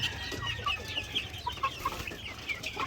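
Young chicks on a Filipino poultry farm give repeated high, short peeps in quick irregular succession, close by, with faint clucking and farmyard background beneath.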